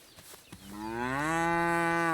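A cow in the medieval video game Kingdom Come lets out a single long, rising, tonal moo close by, building steadily in loudness over a faint background after a couple of soft clicks.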